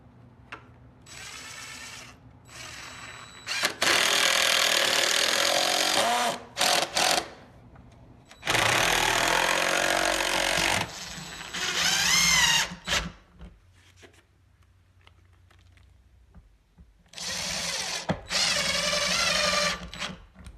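A power drill drives deck screws through a caster into a pallet stringer for a rolling lumber cart, in four or five loud high-pitched whirring bursts of a few seconds each, separated by quiet pauses.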